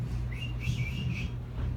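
A man whistles in imitation of bird calls, a few soft warbling chirps rising and falling over a low background hum, faint and brief.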